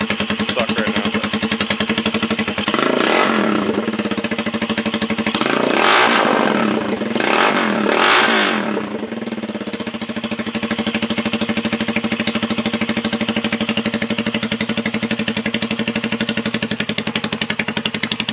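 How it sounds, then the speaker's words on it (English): A CCW Heist custom motorcycle engine, running cold, idles with a loud steady rumble, then revs in three sharp throttle blips before settling back to a lumpy idle, close up. "let me rev it up a little bit. It's a little cold-blooded too, so throttle response might suck right now."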